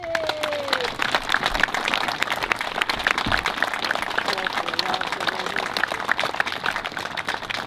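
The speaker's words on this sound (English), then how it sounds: "Let's please give all these veterans our respect with another round of applause." Audience applause for veterans at a Memorial Day event, a sustained crowd of many hands clapping steadily and fairly close, with a few voices mixed in.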